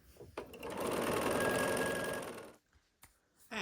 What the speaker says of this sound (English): when you're sewing these strips